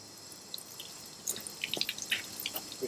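Water is switched on to flush an old seized outboard motor being revived, giving faint trickling and dripping with small splashes that pick up partway through and continue steadily.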